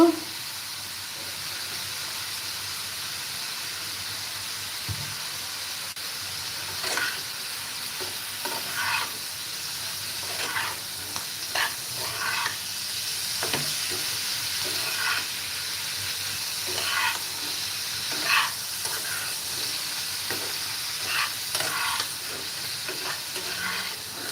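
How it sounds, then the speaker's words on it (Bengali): Mixed vegetables with soy sauce stir-fried in a pan: a continuous hissing sizzle with irregular scrapes and taps of a spatula, close up, no voices. "সবজিটা এখন সুন্দর করে আমি ভেজে নেব"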